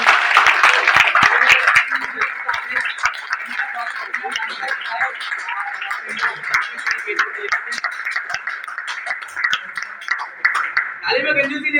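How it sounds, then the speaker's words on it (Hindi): Audience at a seminar welcome clapping together, a dense sustained round of applause that stays loud for several seconds before tapering near the end, with a voice talking over it. "ताली में कंजूसी नहीं दोस्तों"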